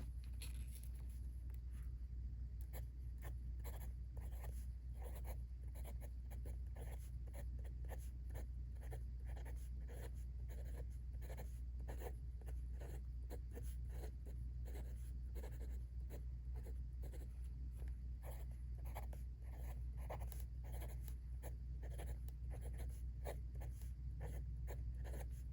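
A Visconti fountain pen scratches across paper in a long quiet run of short repeated strokes, close and steady over a low background hum.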